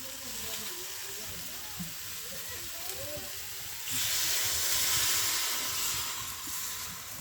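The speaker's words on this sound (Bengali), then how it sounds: "শুধু মশলার মধ্যেই এগুলোকে কষাচ্ছি" Homegrown vegetables sauté in a pan in a spice paste without added broth, giving a soft, steady hiss and sizzle that swells louder partway through, with quiet speech underneath.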